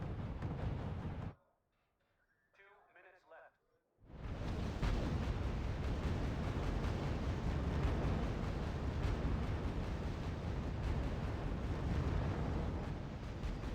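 Units fire during a battle in the RUSE strategy game, heavy booming blasts and rumbling explosions layered into a loud continuous roar, broken by a short quiet gap near the start.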